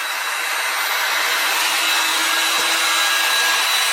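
Heat gun heating a suspension spring on a Tri-Five Chevy build: a steady, close, loud rushing blower hiss that holds constant for four seconds and cuts off at the end.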